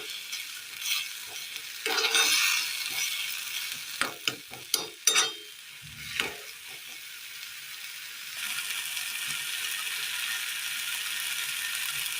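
Tomato masala for a Kerala roast sizzles in a pan while a spoon scrapes and knocks in several sharp strokes, then the frying settles into a steady hiss.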